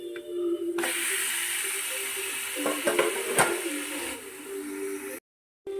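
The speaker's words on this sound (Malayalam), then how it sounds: "ഇനി മാരിനേറ്റ് ചെയ്ത് വെച്ചിരിക്കുന്ന ചിക്കൻ നമുക്ക് ഇതിൻ്റെ അകത്തേക്ക് ചേർക്കാവേ" Marinated chicken hits roasted masala in a hot pan and sizzles loudly at once, a steady frying hiss with a few stirring scrapes, then cuts off abruptly near the end.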